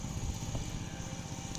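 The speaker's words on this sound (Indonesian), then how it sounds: "Itu traktor." A tractor engine runs steadily beside a rice field near a riverbank, its low, throbbing idle-like chug continuing without a break at moderate distance.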